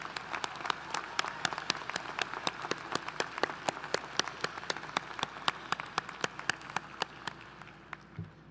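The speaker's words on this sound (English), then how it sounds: "Please join me in a round of applause for all of our outstanding graduates." Dense, sustained audience applause for graduates at a graduate school commencement ceremony, many hands clapping steadily and fairly loudly throughout, with the crowd sound holding at a constant level to the end.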